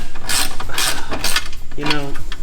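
Ratchet wrench cranking on an E46 BMW exhaust header, a steady run of close, loud clicking pawl strokes with a brief pause and small mechanical rubs, no talking over it.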